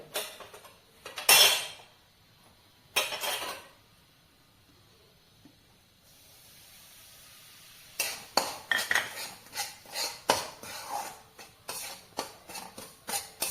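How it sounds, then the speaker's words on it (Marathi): Semolina roasting in a little oil in a pan for upma, with a spatula clinking and scraping against the pan in short bursts, quiet pauses between them, then a busier stretch of rapid stirring clatter near the end; no talking. "थोडंसं तेल घालून त्याच्यावर भाजून घ्यायचा आहे रवा तेलावर।"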